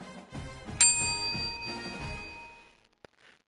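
A single bright notification bell dings as a sound effect, striking sharply and then ringing out in a long shimmering decay over a soft background bed.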